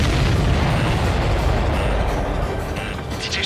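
An enemy aircraft explodes in Ace Combat 7, a loud sustained rumbling blast with dense crackling noise that slowly fades over a few seconds.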